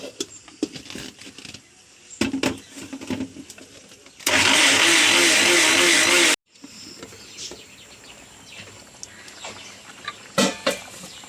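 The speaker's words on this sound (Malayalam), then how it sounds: "പാകത്തിന് വെള്ളം ഒഴിച്ച് അരയ്ക്കും." A mixer grinder grinding coconut and cumin with water roars loudly for about two seconds in the middle, surrounded by quieter kitchen clatter and handling noises.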